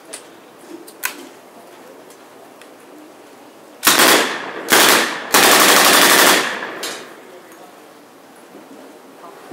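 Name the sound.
Thompson submachine gun firing at WW2 reenactment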